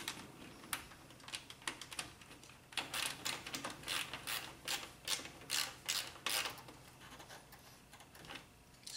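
Ratchet working a bolt on a Honda Accord with a 2.4L engine during a starter replacement, a run of quick clicking bursts in uneven clusters, close and fairly quiet.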